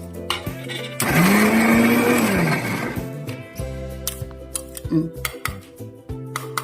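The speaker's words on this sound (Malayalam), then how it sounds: "ഇട്ട് നമുക്ക് ചതച്ചെടുക്കാം" Cumin, garlic and curry leaves are crushed for a yam stem thoran in a mixer grinder: a loud two-second whir, then scattered clatter and clinks as the jar is handled.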